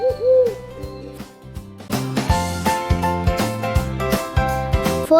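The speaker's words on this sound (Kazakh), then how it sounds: "Үкі." An owl hoots a few times near the start, quickly followed by bright, rhythmic music that carries on loud to the end; no one speaks.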